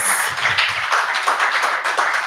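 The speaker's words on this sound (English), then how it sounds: "can we give them a round of applause?" Loud applause from a panel discussion audience at an economic growth and climate action forum in Nigeria, dense steady clapping sustained throughout with no clear talk.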